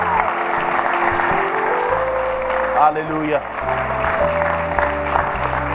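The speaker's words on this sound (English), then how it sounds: "Give them a hand clap as they go, guys" A church congregation claps as people leave the front, broad applause running under a voice and music, with a brief cheer partway through.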